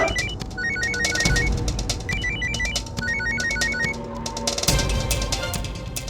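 A telephone rings with a repeating electronic trill, regular bursts of chirping tones over a busy background of music and noise, no speech.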